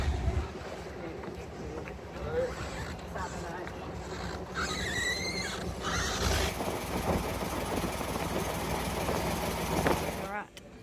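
A boat engine idles at a loch-side dock on the West Highland Way near Balmaha, a steady low rumble running under the whole stretch with brief animal-like squeals and background voices.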